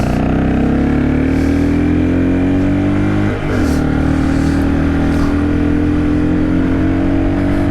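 Engine drone of a Hero XPulse 200 4V motorcycle ridden slowly on a mountain road in Spiti, a steady loud hum with wind rush and a brief dip in revs midway.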